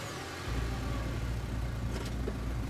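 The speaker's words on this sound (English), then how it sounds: "The cops usher you and Stella back into the back of their squad car." Police squad car driving in the video game Scarlet Hollow, a steady low engine rumble that starts abruptly and holds at an even level, close and alone.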